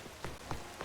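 Rain patters down in Pokemon Legends Z-A, a soft, even wash of falling drops with a few brief louder splashes, faint and alone.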